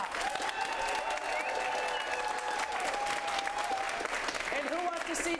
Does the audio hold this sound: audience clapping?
yes